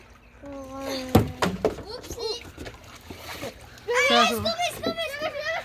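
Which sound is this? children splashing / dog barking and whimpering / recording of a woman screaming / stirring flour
children splashing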